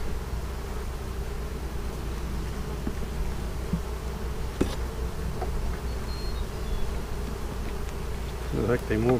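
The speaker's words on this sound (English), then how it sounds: "A few bees up here." Steady buzzing of many honey bees around a hive fills the air, a continuous insect drone with occasional louder passes close by.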